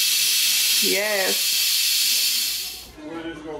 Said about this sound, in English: letting out the steam for the greens